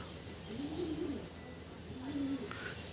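Pigeons coo softly in a low, rounded murmur, two short phrases against a constant hiss of background noise, faint and somewhat distant.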